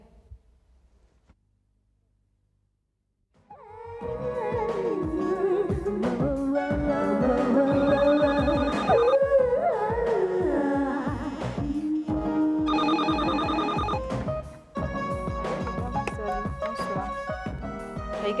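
A telephone rings in a French period setting, its bell sounding in bursts over a sustained musical backdrop after a quiet start, fairly loud and close.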